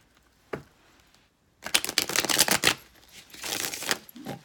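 Tarot cards being shuffled by hand, a short riffling burst after a single tap, then a second softer shuffle, close and dry with no talking.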